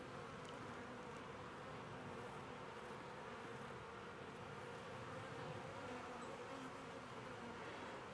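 A steady, close hum of many honeybees inside a hive box, some crawling on its walls and carrying pollen, droning without pause and without voices.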